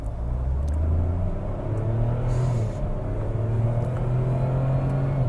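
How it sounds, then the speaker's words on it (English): A 2025 Tata Altroz DCA accelerates hard from a standstill toward 100 km/h, its engine rising in a steady whirring drone as it climbs past 5,500 rpm over a constant road rumble, heard from inside the cabin. "We are trying to do a 0 to 100."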